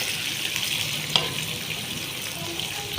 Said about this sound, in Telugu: ఇప్పుడు ఉల్లిపాయ, పచ్చిమిర్చి, కరివేపాకు వేసుకున్నాను. ఇవి కూడా కొంచెం వేగనిద్దామండి